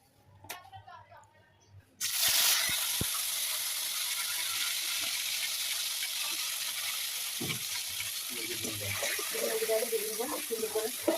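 Pieces of chicken go into hot oil in a pan after potatoes have been fried, setting off a loud, steady sizzle that starts abruptly and hisses continuously. A voice is heard briefly before it begins.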